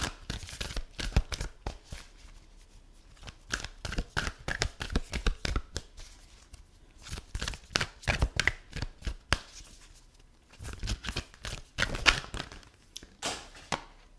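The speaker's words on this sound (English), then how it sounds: "Shuffling." Tarot cards are shuffled by hand in repeated quick riffling and sliding bursts, close and fairly soft, with brief pauses between rounds.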